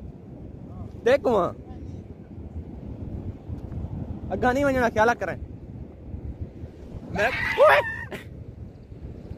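Loud, steady rushing of river water at Taunsa Barrage, a continuous broadband roar with wind buffeting the microphone, under several bursts of excited talk.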